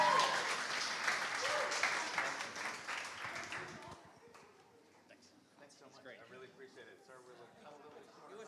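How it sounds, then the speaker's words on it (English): A conference audience at a live political panel on Kavanaugh breaks into dense, loud applause that holds for about four seconds and then fades into scattered claps and murmuring chatter. "Join me in giving a round of applause."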